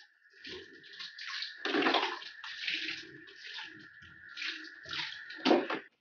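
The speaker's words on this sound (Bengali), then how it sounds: "আমি বাথরুমে এসে পা হাত পা ধোবো" Water runs and splashes in a bathroom as hands and feet are washed, a close, steady flow broken by irregular splashing and pouring surges, with a constant faint tone underneath and no talking.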